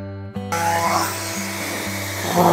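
A homemade grass cutter powered by an angle grinder switches on with a sudden start, then settles into a loud, steady motor whine with a humming drone that continues to the end.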